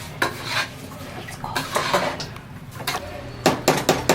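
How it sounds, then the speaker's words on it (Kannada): Rice with masala and water being stirred in a metal pot, the spoon clinking and scraping against the sides in repeated close strokes, busiest toward the end. "ಆಮೇಲೆ ವಾಟರ್ ಹಾಕಿ ಇನ್ನೊಂದು ಸರಿ ಅಷ್ಟು ಮಿಕ್ಸ್ ಮಾಡ್ತೀನಿ"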